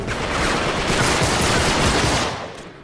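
Dense, loud automatic gunfire in the video game Uncharted 3 Remastered, a sustained burst of rapid shots close up that trails off at the end, with no talking over it.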